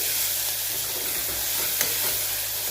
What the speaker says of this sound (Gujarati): એક મિનિટ માટે આપણે ડુંગળી અને ટામેટાને સરસ સાતરી લેવાના છે